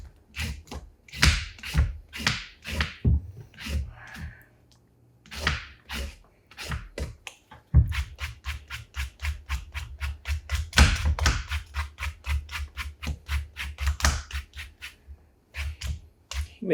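Parsnips being peeled with a peeler in a holiday cooking demonstration, a fast series of close, crisp scraping strokes in quick bursts with brief pauses, nearly free of talk.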